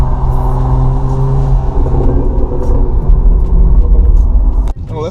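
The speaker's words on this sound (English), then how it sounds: "We do a little pull right here. Yeah. A little second gear." BMW 335 engine pulls hard in second gear from inside the cabin, a loud continuous drone rising in pitch over several seconds before a sudden shift-like break near the end.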